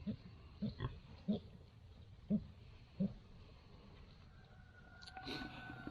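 A farrowed sow on pasture drinks at a pig drinker, giving several short, moderately loud gulping and snuffling bursts at a steady rhythm close by, with soft outdoor background noise between them.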